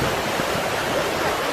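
Water from a fountain in Copenhagen splashes and rushes in a steady, dense wash of noise, fairly close and continuous, with no voices over it.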